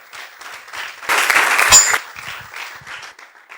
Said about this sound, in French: Mais est-ce que vous pouvez acclamer pour le jury?